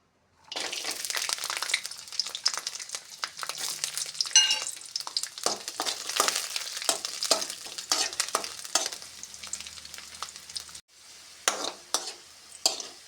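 Garlic sizzles steadily in hot oil in a pan, a continuous close crackle broken by brief spatula scrapes and stirring clicks, ending with a short pause before the sizzle resumes.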